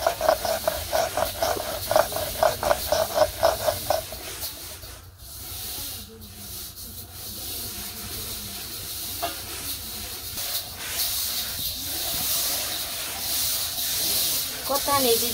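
Cumin and a fish head frying in hot oil give a continuous sizzling hiss, with a brief rhythmic clatter at the start and voices talking intermittently in the background.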